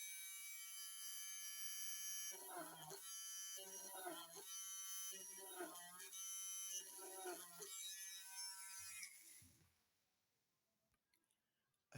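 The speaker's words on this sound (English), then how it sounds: "we take our drill, we make holes on all these letters where we shall insert the LEDs" An electric drill whines steadily and loudly while boring holes through letter shapes meant to hold LEDs; someone speaks over the continuous buzz in bursts, and the motor winds down near the end, leaving near silence.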